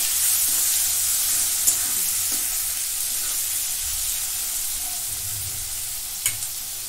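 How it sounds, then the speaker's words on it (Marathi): Tomatoes sauté in a hot pan with a steady, close sizzling hiss throughout, broken by a couple of faint clinks of a utensil. "टोमॅटो पण परतून घेते."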